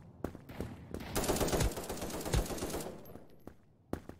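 Gunfire in the video game Krunker comes as a dense burst of shots in the middle, with scattered single sharp shots before and after, all fairly quiet.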